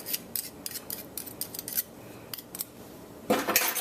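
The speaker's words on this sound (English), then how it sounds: "I'm going to go in now with my whisk." Whisk clinking rhythmically against a bowl while coleslaw is mixed with pineapple juice, a quick run of light metallic taps, a brief pause, then a busier burst of stirring.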